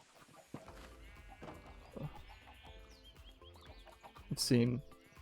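Chickens clucking and squawking in a Minecraft chicken farm pen, several short calls scattered over faint background sounds, with a louder squawk near the end.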